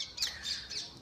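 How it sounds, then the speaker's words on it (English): Birds call outdoors in three short, bright, squawking chirps spaced evenly over about a second. They sound moderately close but fairly quiet, with no talking. "the birds that are singing right now is just magical"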